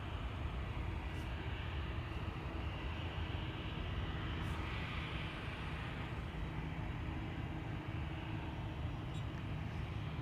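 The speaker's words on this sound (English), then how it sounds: "Bulgaria Air A320 to Sofia coming this way." Bulgaria Air Airbus A320 jet departing Amsterdam Schiphol Airport, a steady, distant broadband engine roar that holds evenly throughout without talk.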